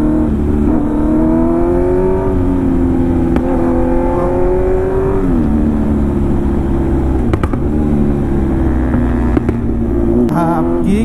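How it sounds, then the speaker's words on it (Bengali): A superbike engine on a Sunday group ride in Guwahati runs loud and close, with a rising and falling rev and a deep exhaust drone that fills the whole stretch. "যেতিয়া আমার সুপার বাইকর লাউড সাউন্ড থাকে"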